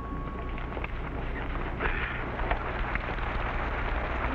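Steady rain patters and hisses throughout, a dense continuous wash of drops with no voices, fairly even in loudness.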